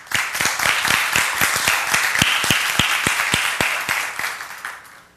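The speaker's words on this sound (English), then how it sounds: "please give a warm applause to the presenters" A conference audience applauds presenters before a talk on reproducible software builds; the clapping is steady and moderately sized, with distinct individual claps, then it fades out toward the end.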